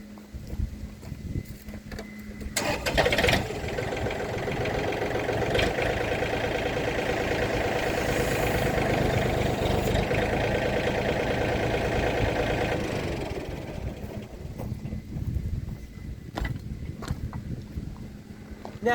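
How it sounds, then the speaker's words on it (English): A tractor engine runs steadily while its front loader lifts, a near, mid-pitched drone that rises and holds for several seconds, then settles back to a lower idle. "I'll lift up the tractor's loader."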